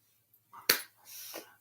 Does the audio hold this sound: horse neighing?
no